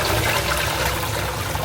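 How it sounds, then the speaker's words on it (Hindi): Water from boiled saag greens (spinach, bathua and methi) pours through a strainer in a steady, close, rushing stream with no talk over it. "इसको हमने स्ट्रेन कर लेना है, छान लेना है, पानी को छान लेना है इसको।"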